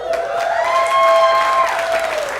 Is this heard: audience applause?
yes